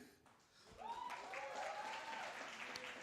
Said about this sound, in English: give a round of applause to Mr. Christian.